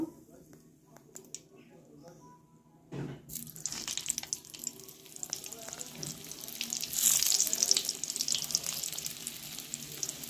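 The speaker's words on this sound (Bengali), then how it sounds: "কড়াই তেল গরম হয়ে গিয়েছে, অল্প আমি নুন দিয়েছি আর হলুদ দিয়ে পটলগুলো ভালো করে আমি ভেজে নেব।" Pointed gourd pieces dropped into hot oil with salt and turmeric give a quiet crackling sizzle that starts partway through and builds louder toward the end, with a soft voice heard early on.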